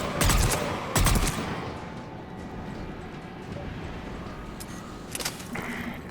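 Submachine-gun fire in Mass Effect 3 during the Leviathan mission on Mahavid: two loud bursts early on, then a steady rumbling game ambience with faint distant shots near the end.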